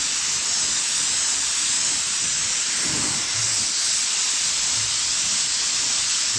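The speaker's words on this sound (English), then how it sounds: "got the next bit here to spray. I'm going to go ahead and put the red on" Red candy paint is sprayed from a spray gun onto an automotive panel in a continuous loud, even hiss that lasts throughout with no talking.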